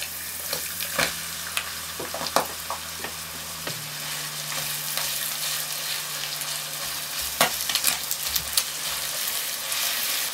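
Onion frying in hot olive oil, a steady close sizzle with intermittent stirring clicks and scrapes running throughout, alone with no voices.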